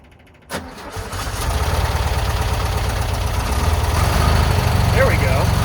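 A long-neglected old VW Bus engine cranks and catches with its exhaust refitted, firing into a loud, rough, rumbling idle that steadies and grows slightly louder, with a voice briefly audible near the end.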